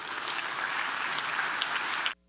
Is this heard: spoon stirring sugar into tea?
no